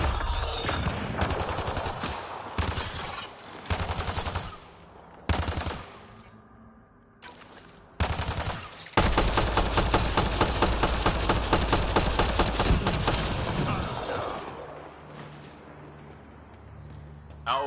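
Rapid bursts of automatic gunfire in the sci-fi shooter Mass Effect Andromeda, loud and close, with choppy volleys giving way to a sustained stream of shots and a brief lull near the end.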